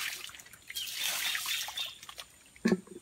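Water trickles and drips at an outdoor bathing spot, a soft uneven dribble close by with a brief louder splash near the end.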